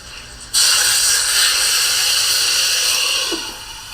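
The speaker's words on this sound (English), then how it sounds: "a little water and let the steam begin." A sudden loud hiss erupts as water hits a hot pan of potstickers with golden crusts, then settles into a steady, close sizzling steam that fades slightly near the end.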